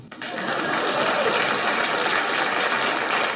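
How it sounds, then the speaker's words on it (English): Audience applause at a political campaign event, steady dense clapping that swells quickly and holds loud and close to the end. "Please clap."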